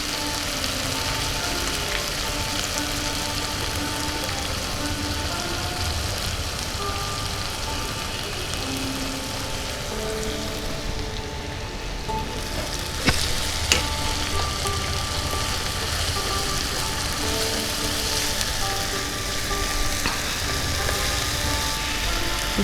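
Ground cumin paste sizzles in hot oil in a pan while making koi fish curry, a steady close hiss and crackle that holds evenly throughout, with a few faint clinks and no talk.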